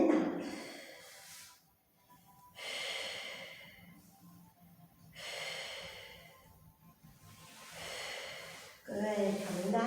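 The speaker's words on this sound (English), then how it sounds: "Breathe in and out." Slow, deep breaths during a yoga and pilates flow, alternating long inhales and exhales in a steady rhythm, close and clearly audible with short quiet gaps between them.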